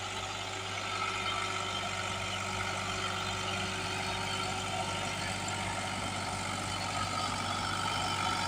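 A Massey Ferguson 260 tractor's diesel engine drones steadily and continuously, a low, even rumble at moderate distance with no talk over it.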